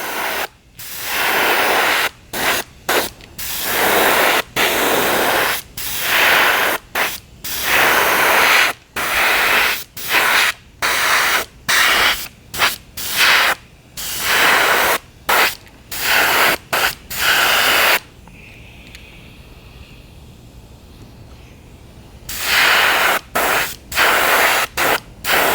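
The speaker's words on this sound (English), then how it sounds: "I'm going to give it a coat of pearlized pearl pineapple from Createx." An airbrush sprays pearlized Createx pearl pineapple paint over a bluegill-pattern fishing lure in a long series of close, loud hissing bursts separated by short gaps, with one longer quiet pause before the bursts resume.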